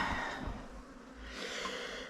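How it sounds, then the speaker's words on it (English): Bees buzzing aboard a sailboat at anchor, a steady close drone that swells and fades over a constant background hiss, with no talking. "now I don't like the bees. Now they just need to go away."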